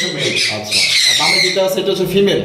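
Pet birds squawk and chatter noisily up close, with someone talking underneath.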